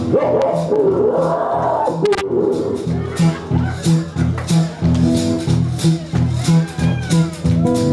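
A police dog barks and yips in repeated bursts, loud and close, with people talking and a crowd murmuring around it.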